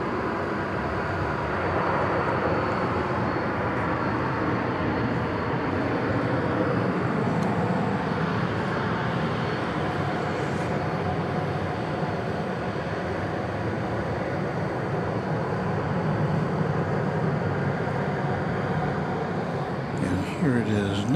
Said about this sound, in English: Here it is now. Flight 793 is 767 300ER.